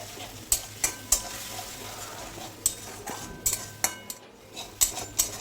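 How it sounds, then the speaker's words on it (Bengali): Spice paste is stir-fried in oil with a splash of water for a cabbage dish. A spoon strikes the pan in repeated sharp clinks over a low, continuous sizzle. "মশলাটাকে কষিয়ে নেব"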